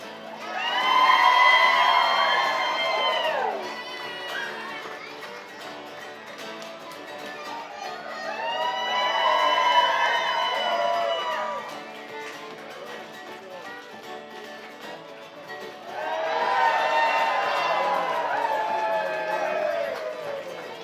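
A crowd at St. John's Airport cheering and shouting for hockey player Alex Newhook as he arrives with the cup, three loud swelling waves of whoops and yells separated by quieter murmuring lulls.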